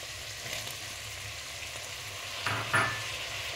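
Vegetables and green peas fry quietly in a pan for a biryani, a steady low sizzle with a brief stirring scrape near the end.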